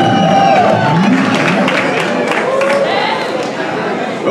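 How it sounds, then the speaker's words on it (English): Audience at a live afrobeats headline show at O2 Academy Islington applauds and cheers, a dense, steady wash of clapping mixed with crowd chatter and whoops, loud and close throughout with voices running over it. "So give yourselves a round of applause."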